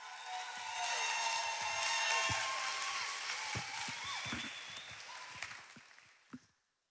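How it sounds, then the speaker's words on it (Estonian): Audience applause as a performer comes on stage, sustained clapping and crowd noise with some voices, swelling then gradually fading out. "tehke suur aplaus"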